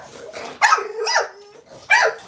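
A dog barks aggressively in loud, sharp bursts with a low growl running between them, close to the listener, while a voice calls out over it.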